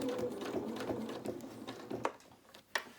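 A sewing machine stitches a seam on a small doll's dress, its rapid mechanical whirring running in short bursts with faint clicks and gaps between passes, close and fairly quiet.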